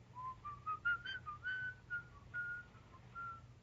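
A man whistles the Peer Gynt tune in the film M, a clear, melodic run of short and sustained notes rising and falling, alone over a faint low hum.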